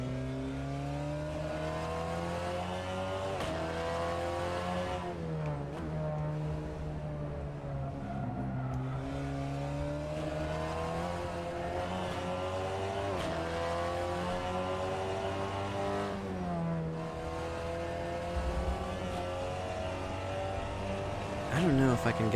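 A race car lapping in a sim racing video game, engine note rising through the gears and falling under braking in repeated sweeps, loud and steady, with someone talking over it.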